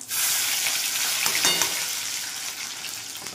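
Oil sizzles and crackles steadily as cumin seeds and chopped garlic fry until browned, with a brief stirring scrape partway through and no talking.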